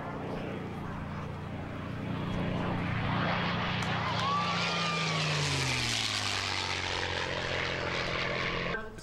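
A P-51 Mustang piston-engine propeller plane makes a low, clean pass at an air show in San Jose, California, its roaring engine loud throughout as the pitch drops sharply when it sweeps past overhead.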